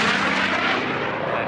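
A racing airplane makes a low pass at about 50 feet past a pylon at the National Championship Air Races, a loud, roaring engine rush that fades slightly as it passes, with no talking.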